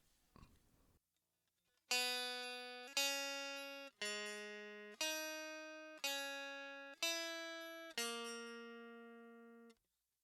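A clean electric guitar through magnetic pickups with no effects plays seven separate plucked notes and chords at an even pace, each ringing and decaying before the next, after a short stretch of faint noise.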